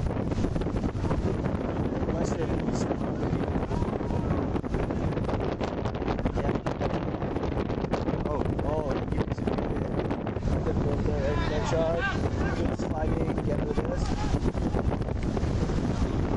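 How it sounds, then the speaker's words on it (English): Strong wind gusts buffet the microphone steadily outdoors at a disc game between Guelph and UWO, a continuous roaring rush with faint voices beneath. "Wind really pushing now."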